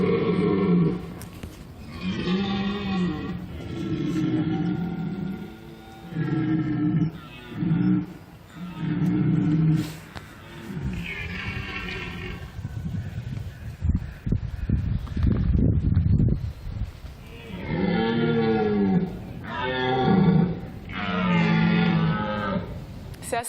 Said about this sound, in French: où ils peuvent par exemple entendre le brame du cerf